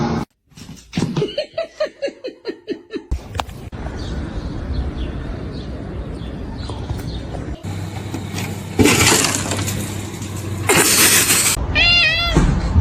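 Cats meowing at home, a rapid series of loud, close, repeated meows, then a stretch of mixed household noise and a final short wavering meow near the end.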